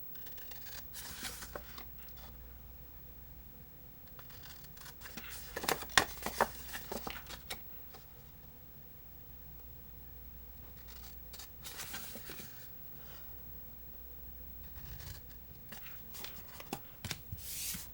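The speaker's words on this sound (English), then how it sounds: "I'm going to take my scissors" Quiet, scattered scissor snips through cardstock and crisp paper rustles come in short clusters, with pauses between, close by and faint.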